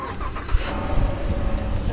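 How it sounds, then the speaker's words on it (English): A 2016 Chevrolet Silverado 1500 V8 starts by remote, giving a steady, rumbling idle with some rough low-end churn heard close by for two seconds. "And listen to the power of that V8."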